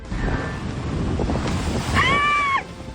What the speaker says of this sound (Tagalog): lumakas ang hangin at lumaki ang mga alon sa Municipal Fish Landing sa Pio Duran, Albay